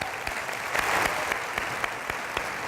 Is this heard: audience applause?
yes